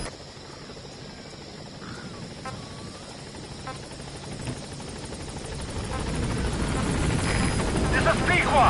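A helicopter in Metal Gear Solid V draws closer to a landing zone, its rotor thrum building from a distant steady whir to a louder, fuller roar over several seconds, with faint ambient game sounds beneath.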